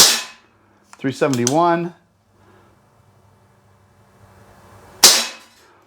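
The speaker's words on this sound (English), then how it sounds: "We're gonna just try and get some, at least 3 to 4 shots here." Schofield No. 3 CO2 revolver firing steel BBs outdoors: a single sharp, loud crack near the end, preceded by a spoken number, with quiet background in between.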